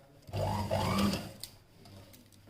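A sewing machine stitching a blouse gives a short, faint burst of motor hum and needle chatter lasting about a second, then fades into quiet room noise.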